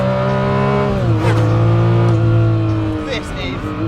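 Ferrari F50 V12 with a carbon tub screams close by, revving toward 8,500 RPM in rising, falling pitch sweeps between gear changes, loud and sustained under a voice.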